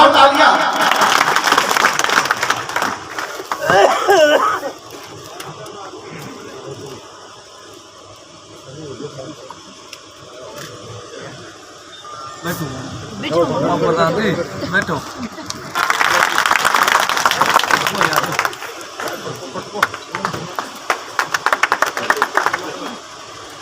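Clapping at a public-representatives felicitation ceremony in Gandhi Badi swells in bursts, broad and fairly loud, with an announcer's voice and crowd murmur between the rounds.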